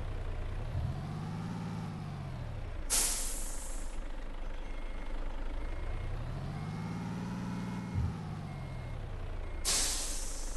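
A truck in a video game backs up with steady reversing beeps over a droning engine that swells and fades twice, and sharp air-brake hisses burst out at the start and end.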